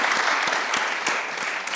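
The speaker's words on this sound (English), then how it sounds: "clap for that" Audience applause at a community summit panel, a steady wash of many hands clapping at moderate level, continuous for the whole stretch with no talk over it.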